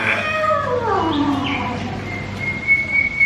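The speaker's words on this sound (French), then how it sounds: "Et voilà, le rossignol le sauve." A nightingale's song rings out inside a fairy-tale attraction, sweet whistled trills and slides repeating over about three seconds, fairly close over a steady low background hum, with no talking.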